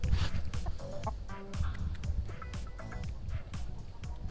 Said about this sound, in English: We have a few chickens in the yard.